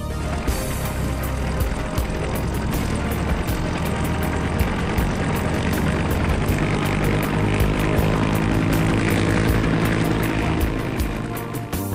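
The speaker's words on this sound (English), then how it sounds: "I'll move my helicopter now." Loud rotor and engine roar builds and holds steady close by, with rapid chopping pulses of a cartoon helicopter powering up for takeoff.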